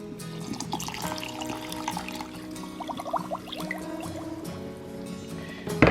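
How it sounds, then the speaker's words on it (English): White distilled vinegar pours steadily onto two cups of white sugar, a close, continuous liquid gurgle with rising glugging tones that ends with a brief clunk. "the last thing I need to do is add some white distilled vinegar to some white sugar"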